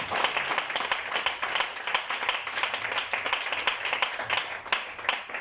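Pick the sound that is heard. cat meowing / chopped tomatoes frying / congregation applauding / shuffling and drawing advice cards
congregation applauding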